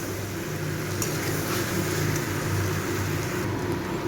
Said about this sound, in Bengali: আরও 5 মিনিট ভালো করে একটু কষিয়ে নেব।